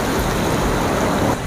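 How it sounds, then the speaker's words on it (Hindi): Heavy rain pours down beside a river during a fishing trip, a dense, even hiss of falling water that stays loud and unbroken for the short stretch with nothing else heard. "बहुत ही बारिश हो रहा है"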